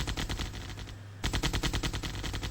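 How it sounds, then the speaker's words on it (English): Rapid machine-gun bursts from units attacking harvesters in OpenRA Tiberian Dawn, a real-time strategy game, in two loud rattling volleys separated by a short gap. "We're going to go ahead and start shooting these harvesters."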